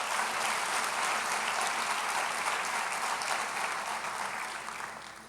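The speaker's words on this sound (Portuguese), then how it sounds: "Aplauda a Jesus" A church congregation applauds together in sustained, dense clapping that fills the whole stretch, loud and close, fading slightly toward the end with no talk over it.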